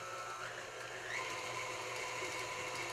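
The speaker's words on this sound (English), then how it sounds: "So bring the mixer speed up a little bit." An electric mixer beats sugar cookie dough with a steady whirring drone, close, with a slight rise as the speed is brought up partway through; no talking.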